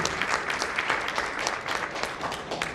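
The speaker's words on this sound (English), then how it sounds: "we put a big round of applause for him" A round of audience applause for India's health minister at an entrepreneurship summit, with a crowd clapping continuously and a few sharper claps standing out.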